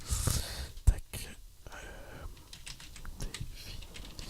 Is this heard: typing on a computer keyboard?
yes